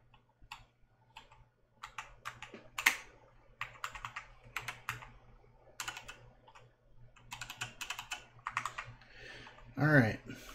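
A new computer keyboard in use: bursts of crisp, close keystrokes come in uneven runs separated by short pauses, ending with a slightly heavier cluster of clicks.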